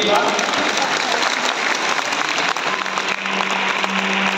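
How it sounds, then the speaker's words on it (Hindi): Sustained applause from a large stadium audience at an Arya Samaj celebration honoring children after their presentation, dense and loud clapping filling the whole stretch without a break. "इन बच्चों का तालियों द्वारा अभिनंदन कीजिए।"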